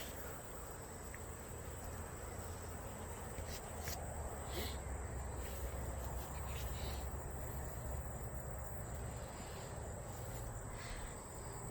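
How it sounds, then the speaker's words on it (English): Hundreds of honeybees feed among the branches of a fig tree outdoors, making a steady, dense buzzing hum that never breaks. "there's hundreds of honeybees on this fig tree"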